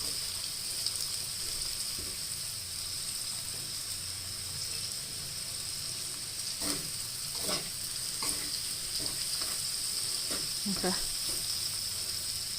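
Egg sizzles and crackles in a hot pan while being stirred for Thai stir-fried noodles with pork, a steady frying hiss broken by a few scraping stirs and clinks of the utensil.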